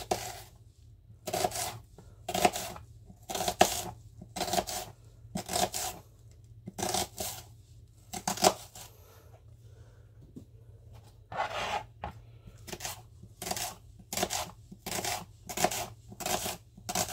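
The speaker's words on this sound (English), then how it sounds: "Just going to cut the onion like that. And we're just literally going to cut it in half moon shapes." A kitchen knife slices an onion into half-moon pieces on a cutting board for chilli con carne, giving rapid, evenly spaced crisp chops in bursts with short pauses between them, close and clear with no talking.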